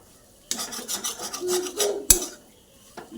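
A spoon scrapes and rasps against an iron wok in quick stirring strokes, ending with a sharp clank, loud and close.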